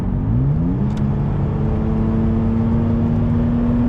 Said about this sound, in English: Like, full throttle, just keeping on it.